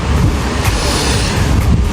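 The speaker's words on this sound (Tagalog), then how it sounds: "Naririnig din naman ata yung hangin" Strong wind roars steadily against the microphone, a dense, continuous low rumble with no pauses, loud and close.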